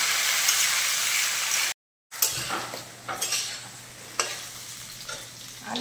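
Cut potatoes and eggplant hit a pan of frying onion and sizzle, with a spoon scraping and clattering against the metal in irregular stirring strokes; the sound drops out briefly, then resumes with sharper stirring knocks over a steady low hiss.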